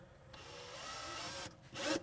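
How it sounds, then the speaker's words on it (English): A small drill whirs steadily for about a second and a half, then a brief higher-pitched burst as the bit bites in, fairly quiet. "We need to drill these out with an 1/8" drill bit."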